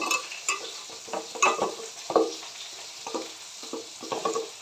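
Small roe-filled fish frying in hot oil in a home kitchen, a steady crackling sizzle broken by louder spits and pops, with occasional stirring clatter, close and without talk.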